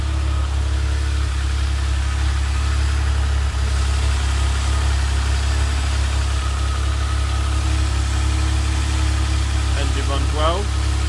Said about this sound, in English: Ticking over at quite high actually, at 1300, but I'll adjust it down.